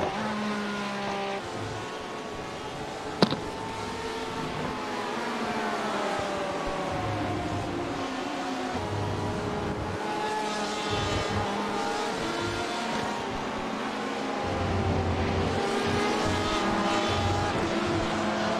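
LMP1 prototype race cars in the iRacing sim at Circuit of the Americas roar past continuously, engine notes rising and falling through gear changes, with one sharp click near the start and a second car's tone joining later; no talk.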